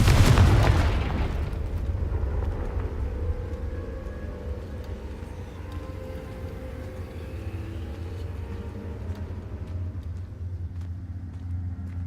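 A Confringo explosion spell from the video game Hogwarts Legacy bursts loudly at the start, then leaves a long low rumbling roar that slowly fades over several seconds.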